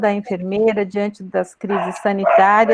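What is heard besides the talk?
dog barking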